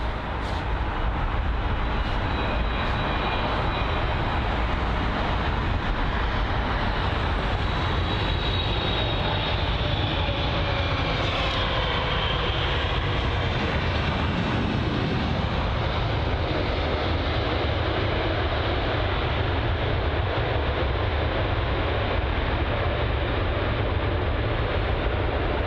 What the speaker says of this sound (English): I know it's the American Airlines Boeing 777